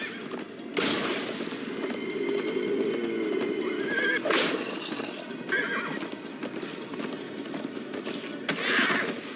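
A horse in the video game Minecraft Story Mode gallops with steady clip-clopping hooves while letting out several loud whinnies and neighs over a rushing background.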